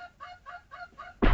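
A chicken in the video game Witch Cry 2 gives four quick, soft, evenly spaced clucks, then a sudden loud thud or burst cuts in at the end.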